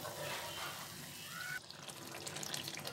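Water poured into a frying pan of palak chicken, a spinach and chicken curry, as it is sautéed, giving a steady liquid hiss and trickle that suddenly sharpens into brighter sizzling partway through, with no talking.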